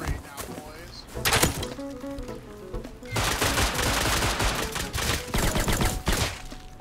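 Gunfire rattles in loud bursts, a rapid machine-gun-like volley followed by dense sustained shooting, close and harsh, with voices talking over parts of it.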